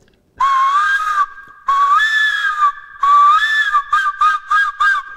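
A bright, piercing whistle blown in three long wavering calls, then a quick run of short chirps, loud and close, imitating a seagull's cry.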